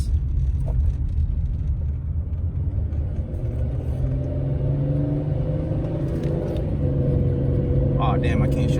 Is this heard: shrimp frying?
no